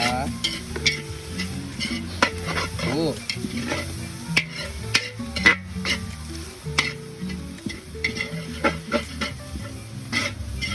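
Vegetables, kangkong among them, are stir-fried in a pan: a loud, close sizzle broken by repeated scraping and clattering strokes of a utensil against the pan.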